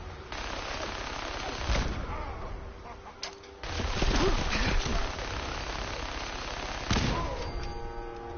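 Fallout 4 gameplay with continuous gunfire and heavy grenade blasts against super mutants, a dense, loud barrage of shots and booms over a steady noisy background, with sharp bursts standing out.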